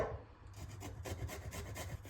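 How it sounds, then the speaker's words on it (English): Garlic for Caesar dressing scraped across a grater in a fast series of close, gritty rasps that keep a steady rhythm after a short start. "I'm gonna grate the garlic in here."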